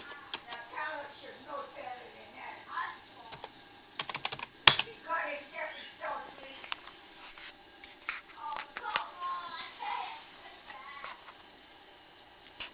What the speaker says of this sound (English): I do have a USB keyboard hooked up to this